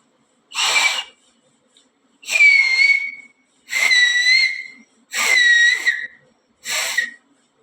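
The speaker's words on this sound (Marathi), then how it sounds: "त्याने मला शिट्टी मारायला शिकवली" A person whistles five separate notes, each lasting about a second with gaps between, clear and close with no talking.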